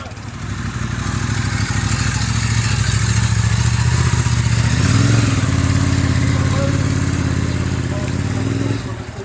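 A Triumph Bonneville Super Sport motorcycle idles and rumbles steadily nearby at a Triumph owners' club gathering, a low continuous engine throb with voices talking over it.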